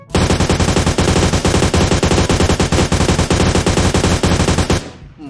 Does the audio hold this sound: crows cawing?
no